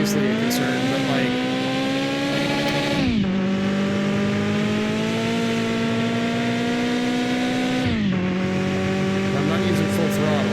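A car engine in the Mon Bazou driving game holds a loud, steady drone, climbing in pitch twice before dropping back, with the wheels spinning and no voices over it.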